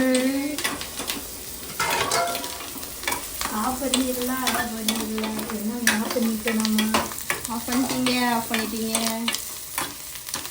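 Food sizzles and fries in a pan while making crab curry, a utensil scraping and stirring repeatedly, with occasional clinks of metal against the pan.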